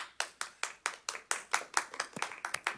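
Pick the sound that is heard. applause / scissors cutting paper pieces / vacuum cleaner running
applause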